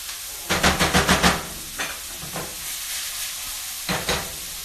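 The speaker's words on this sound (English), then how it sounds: "So we're just going to saute those onions down." Onions sautéing in a pan, with a run of quick, rhythmic stirring scrapes and sizzle near the start, then softer scattered scrapes and a couple of later bursts over a low frying hiss.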